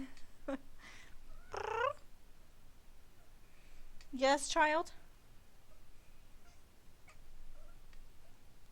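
A pet cat meows several times indoors: short cries early on, then a louder, rising run of meows midway. Someone talks to the cat between the calls.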